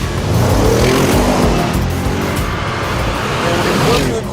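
An Audi RS7 accelerating hard from 0 to 60 mph, a loud close engine roar sustained throughout with a steady rising drone and possible tire noise.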